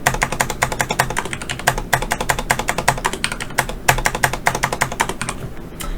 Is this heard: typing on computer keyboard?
yes